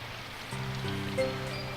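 Soft rain falls steadily in the visual novel Symphonic Rain, a faint, even patter with a low hum beneath, quiet and continuous throughout.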